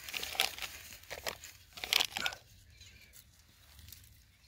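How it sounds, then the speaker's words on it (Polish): Paper wrappers crumpled and crinkled as they are picked up by hand, with a few soft, close rustling bursts and then quiet. "Muszę pozbierać te papierki"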